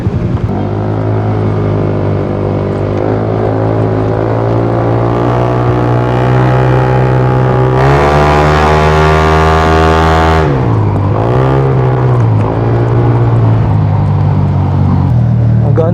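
Honda Giorno 160cc gasoline scooter engine heard while riding, a steady loud drone with shifting pitch that rises briefly mid-ride, constant wind-like roar throughout and no clear talk.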